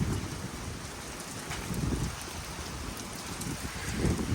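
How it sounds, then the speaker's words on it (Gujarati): Heavy rain pours steadily during a violent windstorm in Patan district, Gujarat, a dense, continuous hiss with low rumbling gusts swelling now and then, no voices over it. "જુઓ તમે આ વરસાદ પણ આવી રહ્યો ધોધમાર વરસાદ સાથે વાવાઝોડું ભયંકર વાવાઝોડું છે"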